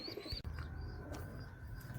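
Teddy and Kamagar pigeons coo softly and repeatedly in a loft, the low burbling calls rolling on continuously with a few thin chirps above them.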